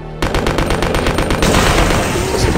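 Rapid submachine gun fire from Resident Evil Code: Veronica X, a loud burst of evenly spaced shots rattling for over a second, then blurring into a dense continuous roar of gunfire and game noise.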